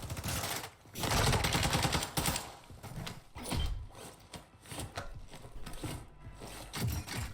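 Bursts of automatic gunfire from AI enemies in Warzone 2, loud and sustained in rapid volleys with short gaps between, set against steady game ambience.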